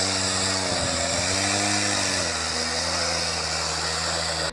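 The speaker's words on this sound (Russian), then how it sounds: "полынью вырезал бензопилой друг утонувшего мужчины" Chainsaw cutting a hole in river ice, its engine droning loud and steady throughout with the pitch dipping as the blade bites.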